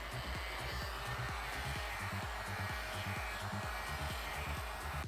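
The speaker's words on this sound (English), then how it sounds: "using a heat gun to stop the Kydex from losing too much heat off of cold" A heat gun blows hot air over a Kydex sheet on cold foam in an unheated workshop, giving a steady, even rushing whoosh with a low pulsing hum underneath that continues unbroken throughout.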